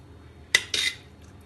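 A metal spoon serves cooked rice into a school lunch box tiffin over a layer of vegetable stir-fry, giving two quick, close clinks and a short scrape in an otherwise quiet room.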